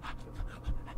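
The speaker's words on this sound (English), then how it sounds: "That's my dog." Quick, soft panting from a dog, short rhythmic breaths close by with low background noise.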